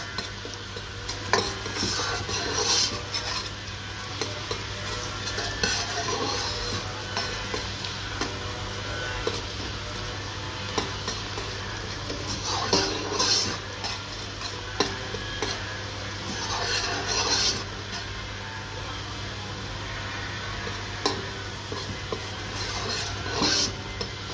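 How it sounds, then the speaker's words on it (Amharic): Garlic and ginger fry together in a pan for a vegetable misir dish, a steady close sizzle with repeated scraping stir strokes and light utensil clinks, no one talking. "ከዛ ነጭ ሽንኩርቴንና ገንዘቢሉን አንድ ላይ እጠብሳለሁ።"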